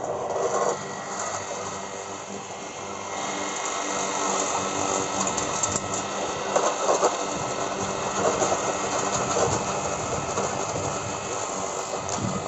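A homemade welded grass-cutting machine with a single-phase 1.5 HP, 2900 RPM electric motor and a steel blade runs with a steady, fairly quiet whirring hum that holds constant throughout.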